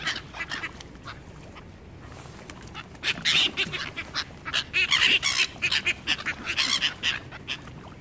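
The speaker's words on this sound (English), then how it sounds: "These seagulls are getting in there." Seagulls call raucously nearby, crowding in for scraps, a run of loud harsh squawks and cries that thickens and overlaps in the second half, with no voices.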